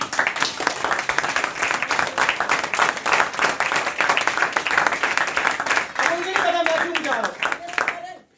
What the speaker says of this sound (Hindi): जरा तालियां बजाइए उनके लिए।